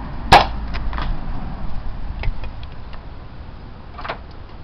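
The ABSOLUTION universal launcher test-firing a foam dart, one sharp close pop at the start followed by faint clicks and handling noise in a quiet room.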